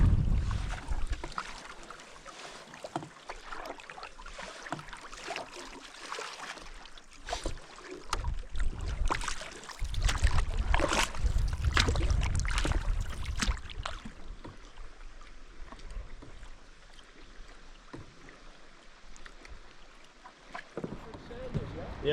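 A canoe is being paddled on windy Saganaga Lake. Paddle splashes and water sloshes against the hull mix with gusty wind buffeting the microphone, loudest in the middle, and people talk at times.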